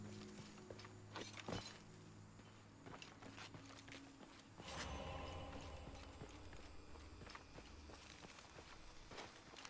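Horse hooves in the video game Shadow of the Tomb Raider, irregular clip-clop steps at low level mixed with soft game ambience, a sharper burst midway, and no talking.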